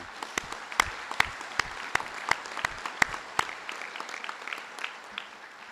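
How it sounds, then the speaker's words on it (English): An audience at a hospital health science school graduation ceremony claps, with sparse, distinct individual claps that sound moderately distant, gradually thinning out toward the end. "Maybe we can give them another round of applause as well."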